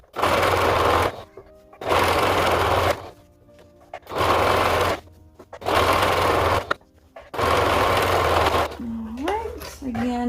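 A sewing machine stitches a ruffle shorts garment in five steady bursts of rapid whirring, each about a second long, separated by short quiet pauses, close and clear.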